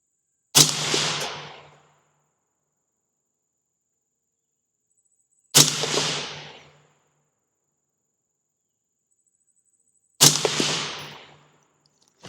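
Three sharp gunshots fired at a 100-yard target, evenly spaced about five seconds apart, each a loud close crack with a quickly fading tail, separated by silence.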